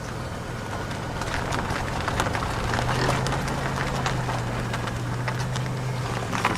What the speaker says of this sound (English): All I hear is the gravel and the tires.